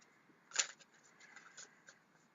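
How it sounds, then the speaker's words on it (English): A deck of oracle cards being shuffled by hand, a quiet, close papery riffle with one brief louder burst followed by soft scattered flicks. "Give them a good shuffle."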